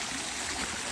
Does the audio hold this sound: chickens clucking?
no